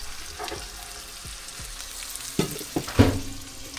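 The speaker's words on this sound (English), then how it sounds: "they still need a little bit more boiling" Steady sizzling and frying of shrimp in a pan, with a few louder clinks and stirring knocks near the end, no voices.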